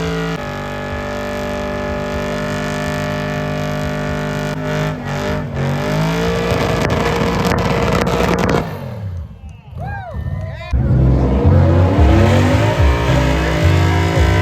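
Several cars doing burnouts and sliding at a legal pit, engines roaring and revving loudly throughout, with tires screeching, a brief drop-off and then a louder surge near the end, people talking under the din.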